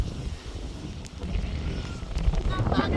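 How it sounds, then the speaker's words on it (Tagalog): Strong wind buffets the microphone outdoors during traditional Vietnamese kite flying, a rough, continuous rumble with a voice faintly underneath. "Grabe yung hangin lakas mga kaborbot."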